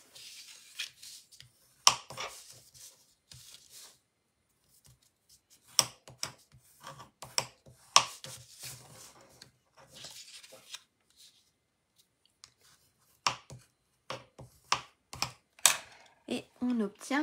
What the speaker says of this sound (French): on va marquer nos plis